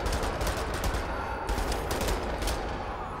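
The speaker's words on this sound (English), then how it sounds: "I just shot that dude in the dick." Rapid automatic gunfire in the shooter Wolfenstein: The New Order, a loud, sustained volley of close shots with sharp bursts recurring across the whole stretch and no talking.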